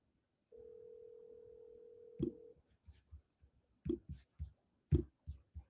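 A single steady ringback tone sounds for under two seconds during an outgoing phone call, followed by a scatter of sharp keyboard clicks in an otherwise quiet room.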